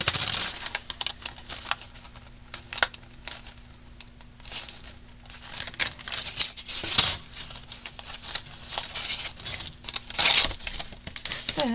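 Scissors cut out paper pieces for a fall-themed ring mini album, producing a steady run of crisp snips and papery rustling close by, with light tapping and shuffling on the table and no talk.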